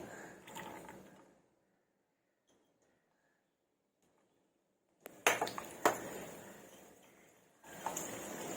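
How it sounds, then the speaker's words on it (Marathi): Chana dal tipped into hot ghee in a pan bursts into a loud sizzle with sharp clinks and scrapes after a long quiet pause, and the frying hiss continues to the end. "आपलं तूप गरम झालेलं आहे त्यामध्ये मी बघा इथे चण्याची डाळ घेतली ती चण्याची डाळ टाकते"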